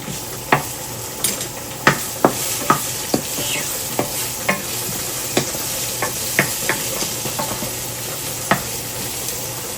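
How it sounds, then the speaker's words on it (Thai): Clams stir-fried in oil with chili and garlic in a wok, a constant bright hiss of sizzling oil broken by regular sharp scrapes and taps of the spatula, close and clear with no voices. "ทีนี้ก็จะมาผัดหอยลาย ใส่น้ำมันไปนิดนึง แล้วก็ใส่พริกกับกระเทียมนะคะ ลงไปผัดเลย"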